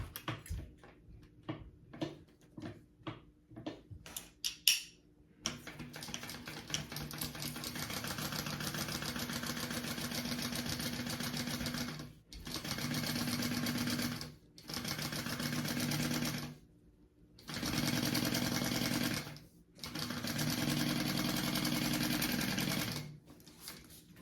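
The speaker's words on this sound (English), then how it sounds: "I'm gonna sew that along this top piece" A sewing machine stitching a crossbody bag pocket piece to a top piece, running in long steady bursts separated by short pauses after a few opening clicks, heard close and alone.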